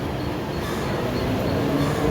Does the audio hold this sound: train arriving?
yes